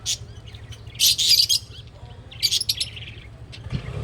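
Breeder birds chirp and squawk in short bright bursts, two clusters of calls a second or so long with quieter gaps between, fairly close and with no talking.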